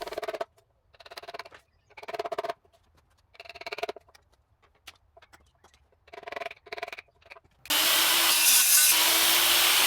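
A circular saw makes several passes through bitumen-coated wood for a planter build: a series of short, rasping cutting bursts with gaps between them, then one loud, sustained cut at the end.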